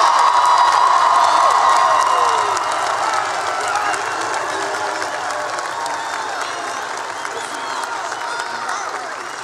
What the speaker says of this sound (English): one more round of applause for the class of